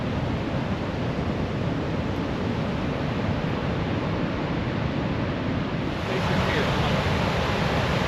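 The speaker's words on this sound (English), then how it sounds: "Here it is, Athabasca Falls in Jasper Park. Look at that intensity." Athabasca Falls in Jasper Park thunders as a continuous broadband roar of rushing water. It stays loud and steady throughout, swelling slightly near the end and sounding close and all-enveloping.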